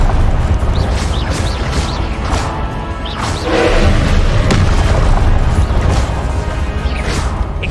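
Confringo blasting spell from Hogwarts Legacy, loud booming explosive bursts and crashes layered over dense game noise, several blasts in succession.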